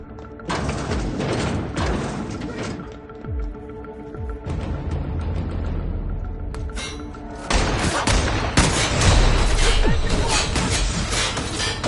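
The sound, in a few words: gunfire in the video game The Outer Worlds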